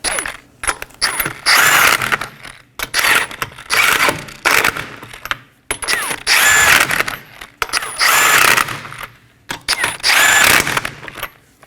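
Bursts of a power tool snug down the 21mm lug nuts on the rear wheel of a 2015-2023 Nissan Maxima in a crisscross pattern. Loud, close whirring and rattling runs in repeated spells of about one to two seconds with brief gaps.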